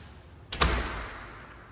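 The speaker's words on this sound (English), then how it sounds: "I'm gonna close this door." An interior door in a remodeled modern home swinging shut with a single solid thud, close and moderately loud, followed by a short decaying room echo.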